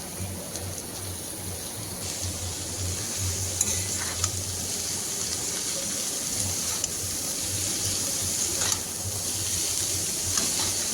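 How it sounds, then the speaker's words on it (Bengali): Bengali cabbage ghonto cooking as cabbage goes into a hot pan with fried chilli paste and potatoes, giving a steady low sizzle with faint stirring and scraping throughout, no talk. "এবারে বাঁধাকপিগুলো দিয়ে দেব।"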